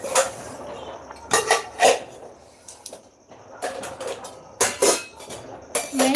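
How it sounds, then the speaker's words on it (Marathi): Dishes being washed by hand in a home kitchen, with bursts of clattering pots, plates and cutlery separated by quieter pauses, close and moderately loud. "मी ना किचनमध्ये भांडी घासत आहे"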